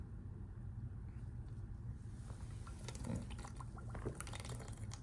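Water sloshes and trickles as someone drinks Fiji bottled water, with faint splashy bursts over a low steady background rumble and no talking.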